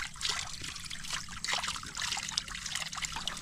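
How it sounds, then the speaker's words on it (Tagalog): Water trickling from a natural spring at a campsite near rice terraces in Bagac, Bataan, a continuous soft bubbling flow, faint and close, with no talk. "nakita nga nila na meron ditong natural spring na pwedeng panggalingan ng tubig."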